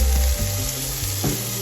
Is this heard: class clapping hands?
no